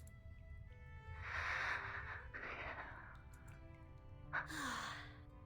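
Faint, soft breathing from a character lying injured in the video game Reverse: 1999, a few slow sighing breaths and a short gasp near the end over quiet background music.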